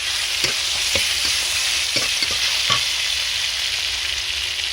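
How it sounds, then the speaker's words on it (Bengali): Ginger and cumin paste with chopped tomato fries in a pan, a loud steady sizzle close by with repeated clicks and scrapes of stirring, no voices. "শুকনো লঙ্কা গুঁড়ো হলুদ গুঁড়ো স্বাদ মতো লবণ দিয়ে ভালো করে মশলাটা আমি কষিয়ে নেব"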